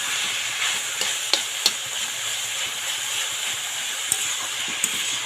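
Radish pieces fry in a pan in a home kitchen, giving a constant hissing sizzle with a few sharp ticks and pops scattered throughout, no voices.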